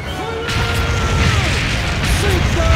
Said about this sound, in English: Get the cannons! Fire!